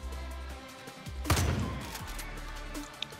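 Gunfire in the video game Far Cry New Dawn: one loud burst of shots with a booming low-end tail, then quieter game ambience, with no talk over it.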